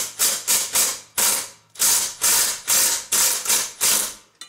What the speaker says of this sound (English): So we do have to loosen these two belt guards.